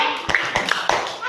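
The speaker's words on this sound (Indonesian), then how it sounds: "beri tepuk keren untuk si Ali" A classroom of children claps a short rhythmic cheer for a classmate named Ali, with a few sharp, evenly spaced claps close by and voices mixed in.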